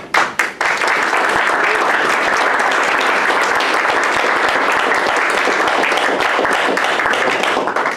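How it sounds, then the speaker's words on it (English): A lecture audience at the Dar Al-Hijrah Islamic Center gives steady, dense applause that holds at full strength throughout, a few isolated claps at the start leading into continuous clapping. "Another round of applause for Graylin Kimbrough"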